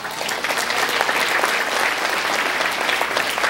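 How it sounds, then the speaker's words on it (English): Steady, even applause from an audience greeting a keynote speaker at a college career fair, continuous crowd clapping throughout with no speech. "I appreciate your applause"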